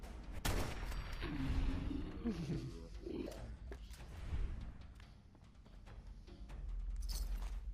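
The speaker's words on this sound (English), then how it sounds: "Hear that? Who shot at me?" Gunfire in the video game Fallout 4: sharp bursts and booms mixed with roaring game noise and bangs over several seconds, with someone talking over parts of it.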